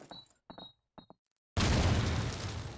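A grenade goes off in Call of Duty 2 on the Toujane map, a sudden loud blast that follows a few short game sounds and then rumbles and fades under broad noise.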